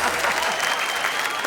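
An audience at a poetry recitation breaks into brisk, even applause, the clapping loud and close for the whole stretch, with a few crowd sounds mixed in.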